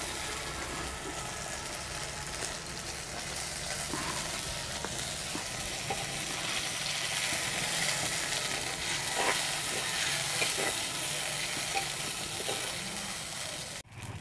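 White and black mustard seeds, chilli and pond-caught yellow koi fish stir-fry in hot oil for a Bengali tel koi, a steady loud sizzle with scraping stirs running throughout and no talk.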